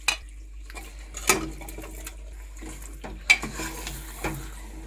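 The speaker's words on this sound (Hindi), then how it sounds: "इसी समय हम चिकन डाल देंगे। चिकन 1 किलो है।" Raw chicken, 1 kg, goes into hot masala in a pan for chicken tari, giving a few sharp clatters and scrapes over a steady sizzle of frying, with quieter stirring between the louder hits.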